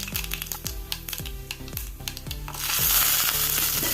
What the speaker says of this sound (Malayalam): എണ്ണ ചൂടായി. 1 ടീസ്പൂൺ കടുക് ഇട്ട് കൊടുക്കുക.